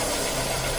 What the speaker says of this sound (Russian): Заводим двигатель.